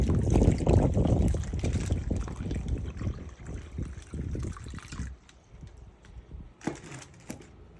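Water pours and splashes into a tray set up for paint marbling, a loud gushing stream that tapers into quieter trickles and drips toward the end.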